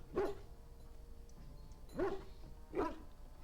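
A dog in a video game barks three times in short, evenly spaced yaps, moderately close over a low background hum.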